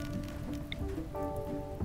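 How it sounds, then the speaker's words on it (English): Steady rain falls in the RimWorld colony game, a soft continuous patter mixed with background music and no talking. "Oh, thank God it's raining."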